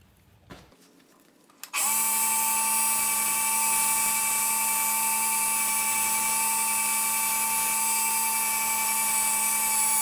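A wooden pen blank spins on a lathe as it is sanded, giving a loud, steady high-pitched whine with a constant tone that starts abruptly after a brief quiet moment and runs on unbroken.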